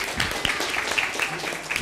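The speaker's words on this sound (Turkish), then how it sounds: "Alkış, alkış, alkış," Children clap at a kids' show, a brief, busy patter of small hands with a voice chanting over it and faint high squeaky cries.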